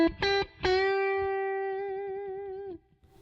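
An electric blues lick on a distorted guitar plays two quick picked notes. A held note bends from the sixth up to the seventh of the scale and sustains with slight vibrato for about two seconds before cutting off, with no speech.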